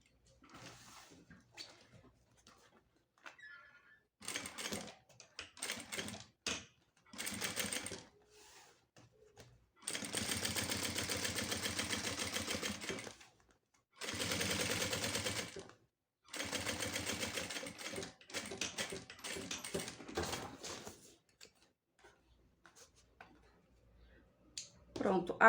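A sewing machine runs in short bursts and longer steady runs while double-stitching a small zip pouch, with quiet pauses and clicks between runs and someone talking softly in between.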